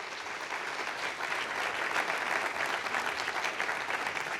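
Sustained audience applause at an Ariane 5 launch event for flight VA211 in French Guiana, a dense, even wash of many hands clapping for several seconds without talk.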